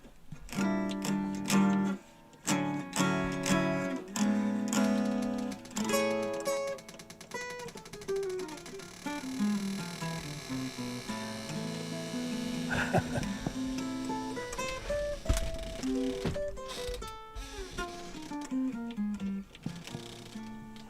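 Heritage Eagle Classic jazz archtop guitar played unplugged, a run of plucked chords and single-note lines with clear attacks and ringing sustain, close and moderately loud throughout, no voices.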